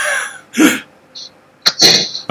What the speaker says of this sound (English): I thought that was you coughing for a minute.